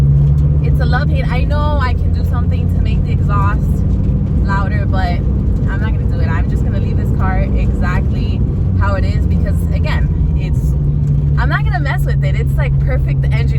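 A Dodge Viper ACR-E's engine and exhaust form a steady low drone throughout while driving, sitting beneath continuous talking that dominates the foreground.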